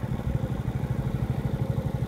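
A motorcycle engine idles steadily on the Itna–Mithamoin–Austagram haor road in Kishoreganj, giving a close, low, rapidly pulsing throb that runs evenly throughout with no voices.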